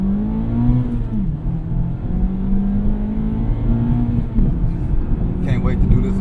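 A 2024 Mazda Miata accelerates on the highway, its engine note climbing in steady pitch sweeps with a shift partway through, loud and close from inside the cabin.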